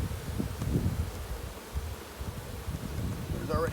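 Honey bees from a newly installed package buzz continuously nearby at a hive, a dense droning hum with faint rustling and occasional louder passes.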